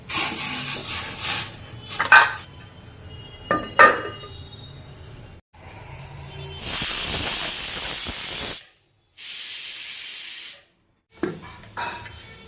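Steam hissing from a pressure cooker boiling 600 grams of potatoes, with a few short clatters and rubs first, then long loud hissing bursts broken by brief silences.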